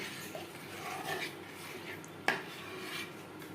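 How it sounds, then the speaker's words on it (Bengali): A spoon scrapes and clinks against a metal pot as whisked sour curd is stirred into milk for kheer doi, with one sharp knock of the utensil near the end. "এবার দিয়ে দেব ফেটিয়ে রাখা টক দই। বেশ ভালো করে মিক্স করে দেব।"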